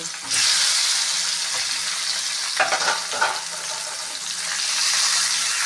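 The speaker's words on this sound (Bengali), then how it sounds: "দিয়ে আমি ভালোভাবে আলুটাকে ভেজে নেব আমি আলুগুলো ভেজে নেব" Potatoes frying in oil with salt and turmeric, a close, steady sizzle with a few brief stirring scrapes partway through.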